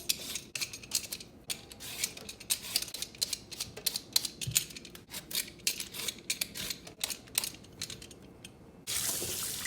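Taro being peeled by hand for a Chinese sweet taro dessert, giving close, rapid, rhythmic scraping strokes, with a burst of running tap water near the end.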